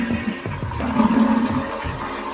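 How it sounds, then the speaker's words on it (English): A Convenient Height toilet fitted with an electric bidet gives a full flush, a loud close rush and swirl of water lasting the whole moment. "using the full flush here."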